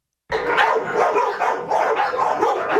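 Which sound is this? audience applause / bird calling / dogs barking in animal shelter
dogs barking in animal shelter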